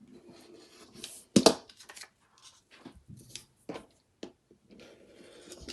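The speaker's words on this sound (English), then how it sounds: "I cut a nice 4 cm strip there" Scissors cutting a 4 cm strip of fabric for a sewn travel wallet, heard as a series of close, crisp snips and blade slides at an irregular pace, one louder cut early on, with quiet handling between.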